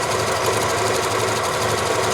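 Janome Memory Craft 6500P sewing machine stitching out a design: a steady, fast, rhythmic mechanical chatter, loud and close, with no pauses.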